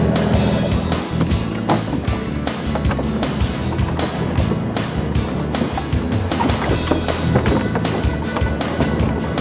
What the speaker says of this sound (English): We're just idling ahead right now trying to keep up with this fish